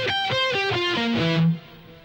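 An electric guitar with heavy distortion plays a fast descending arpeggio starting on E in a Locrian solo, about six bright notes in quick succession, ending on a sustained note that then cuts off abruptly.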